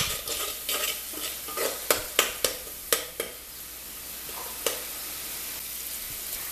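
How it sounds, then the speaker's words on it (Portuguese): Garlic and onion fry in a pan with a soft continuous sizzle, punctuated by several sharp scraping stirs against the pan, close and fairly quiet with no talking. "Aí agora eu vou deixar dar só uma fritadinha aqui mesmo nesse alho aqui e na cebola."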